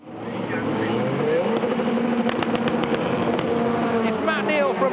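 BTCC touring cars, including a Honda and a BMW, race flat out toward the finish line at Croft. Loud, continuous engine roar runs throughout, with rising and falling pitch sweeps as the cars pass, and a commentator talks over it.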